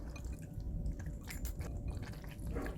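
Saucy, cheesy microwaved food stirred in its dish, a close, wet squelching and sticky smacking that churns steadily throughout, with no talking.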